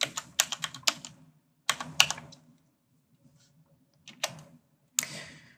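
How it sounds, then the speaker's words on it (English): Computer keyboard typing in short bursts of crisp, close key clicks, a quick flurry at the start, another around two seconds, then a pause before two brief final bursts. "let's type in warning."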